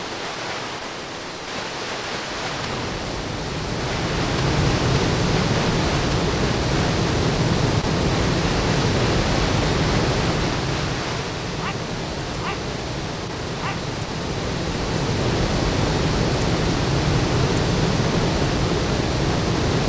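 Water rushing beneath a dam in a Doom video game map, a steady broad roar like a waterfall, loud and constant with slow swells in intensity.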